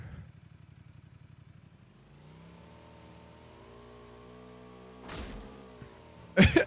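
A motorcycle engine in the video game PlayerUnknown's Battlegrounds idles with a rapid putter, then settles into a steady mid-pitched drone, followed by two sharp bursts of clatter near the end.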